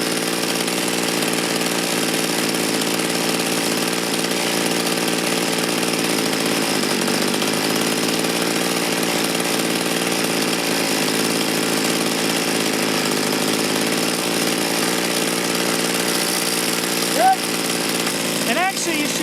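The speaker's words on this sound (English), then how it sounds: "Adjusting the low side, which is the screw closest to the engine." A small two-stroke engine runs steadily while its carburetor low-side screw is adjusted, a constant buzzing drone with a slight dip in pitch partway through, loud and close, with no other sounds.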